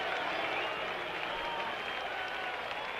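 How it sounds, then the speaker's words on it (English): A large stadium crowd at the 1977 MLB All-Star Game in New York roars and applauds in a steady, dense wash of cheering that holds evenly for the whole stretch. "as we listen to the crowd reaction"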